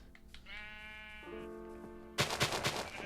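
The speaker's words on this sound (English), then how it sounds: "Are there 2 black sheep?" A Minecraft sheep lets out one long, wavering bleat, loud and close. A sudden burst of rapid crackling noise cuts in right after it.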